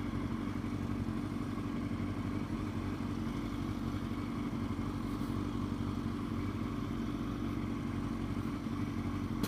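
Motorcycle engine running steadily during a riding lesson, a constant low droning rumble at moderate distance with no pauses, faint and uniform throughout.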